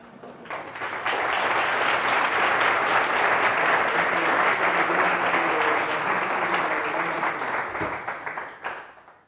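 Sustained audience applause after a talk at a JavaScript conference, dense steady clapping from a room full of people lasting several seconds before tapering off abruptly.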